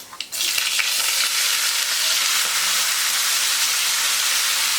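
Cumin and mustard seeds sizzle and crackle in hot oil while tempering a winter vegetable dish of valor beans and brinjal, a loud steady frying hiss with a few sharp pops.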